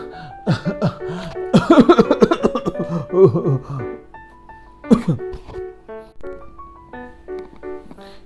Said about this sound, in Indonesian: Batuk udah lama gak sembuh-sembuh.